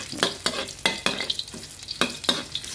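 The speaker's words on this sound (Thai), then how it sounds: "น้ำมันเดือดได้ที่แล้วก็เอากระเทียมเอาลงไปก่อนเลยนะครับ" Garlic frying in hot oil for a stir-fried bamboo shoot dish, a steady close sizzle broken by several sharp scraping stirs of a utensil against the pan, with no talking.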